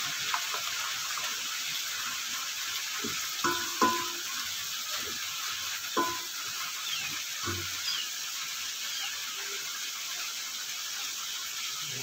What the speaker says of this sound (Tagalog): Pakulo-kuloin lang natin ng kaunti.